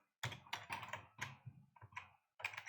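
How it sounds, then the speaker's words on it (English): Fingers type on a computer keyboard, making a quick, close run of irregular clicks and clacks with a brief pause before a final burst. "I'm going to type that one right"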